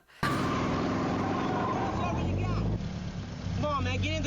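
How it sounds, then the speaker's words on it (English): A car approaches in the movie Gran Torino, a loud engine rumble over film dialogue and other voices, close and steady before shifting toward the end. "Oh gosh, and their car's coming."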